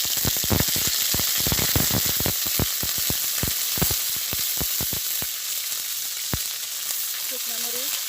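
Whole spices, onion and garlic frying in a pan for village cooking, making a steady loud sizzle broken by quick clacks of stirring throughout.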